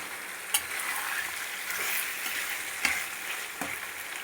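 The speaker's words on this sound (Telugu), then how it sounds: "మటన్ బాగా వేగుతోందండి" Mutton sizzles and fries in a pan for a mutton ghee roast, a steady close crackle with a few sharp stirring scrapes, and no talking.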